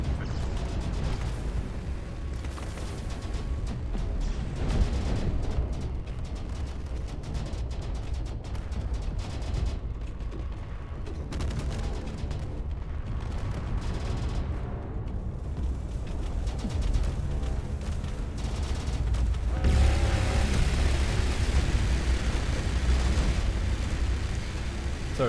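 Heavy weapons fire from ships in a Space Engineers battle, a sustained roar of overlapping booms, bursts and mechanical rattling that stays loud and dense throughout with no talk over it.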